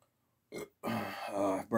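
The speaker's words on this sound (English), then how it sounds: "Burped a little bit." A loud, drawn-out burp after drinking Coca-Cola, rolling on for about a second close to the mic, then a short second belch starting at the end.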